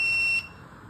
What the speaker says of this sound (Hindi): तो ये बज़र क्रिएट ऑन करेगा और साथ में इसके हैंड्स भी मूव करेंगे।